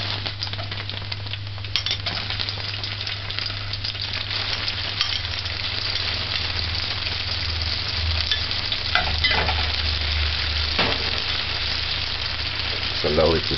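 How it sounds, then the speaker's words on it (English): Chopped onions and scallion sauté in hot oil in a pan while cooking corned beef with green peas, giving a continuous soft sizzle with occasional stirring clinks and scrapes. "Just allow it to saute."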